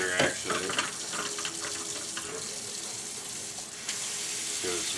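Hot water runs steadily from a kitchen tap into a sink, a continuous broadband splashing hiss lasting throughout, with a few clinks and light handling noises near the start and end.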